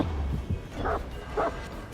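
A dog in the survival horror game Dead by Daylight barks twice in quick succession, mid-loud over a low background rumble.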